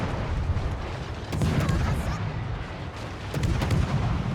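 Incoming shells explode around a warship in the naval combat game World of Warships, with deep rumbling booms that swell twice over a constant heavy roar of battle noise.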